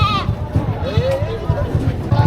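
A goat bleats in a short wavering cry amid the chatter and thumping background noise of a busy livestock market, with people talking close by.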